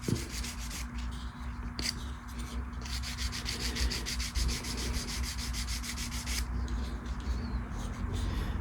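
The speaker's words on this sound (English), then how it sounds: "I'm just going to lightly, just like I'm going to rub out a finish." A freshly finished, overnight-dried bass guitar pickup is lightly rubbed out by hand, soft close repetitive scrubbing strokes coming in short bursts.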